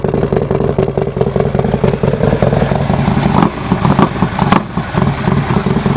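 A 2010 Harley-Davidson motorcycle engine running nearby, a loud continuous rumbling idle with mechanical clatter and slight level swells, no speech over it.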